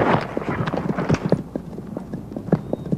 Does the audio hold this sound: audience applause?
no